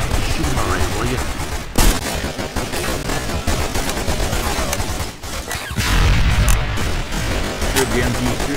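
Loud World War II gunfire in Call of Duty: The Big Red One, bursts of rifle and machine-gun shots with booms and crashes in a dense battle din, a few sharp pauses, and voices shouting over the fighting.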